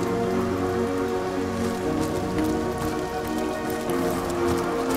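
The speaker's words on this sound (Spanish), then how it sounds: "si escuchan la lluvia atrás..." Steady, dense rainfall from the video game Divinity: Original Sin hisses evenly and continuously, a close wash of rain on surfaces with no speech over it.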